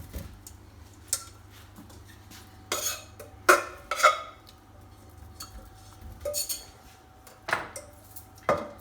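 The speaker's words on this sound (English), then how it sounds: "Just tip the potatoes in." Parboiled potatoes tipped into a roasting tin make scattered metallic clunks and knocks, some bunched in quick groups and others spaced apart, close and fairly faint, with no talk.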